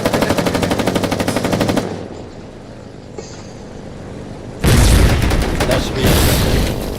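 Bursts of rapid machine gun fire ring out in the war video game Foxhole, loud and close. A quieter rumbling lull follows, and then a heavy second volley of gunfire returns with booms.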